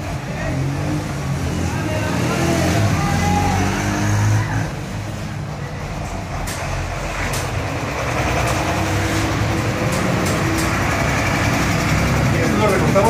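A car engine running and revving at close range, a loud continuous rumble that swells and eases over several seconds, with voices and workshop clatter mixed in.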